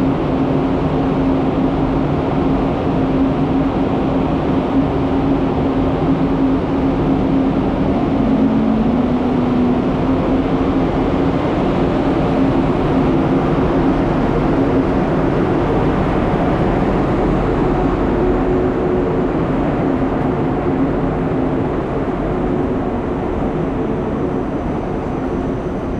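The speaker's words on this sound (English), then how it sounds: "here we can see the train leaving for" An ICE 2 high-speed train pulls out of a station in Hamburg bound for Altona, a steady loud rumble of wheels and rolling stock that holds evenly throughout, with no voices.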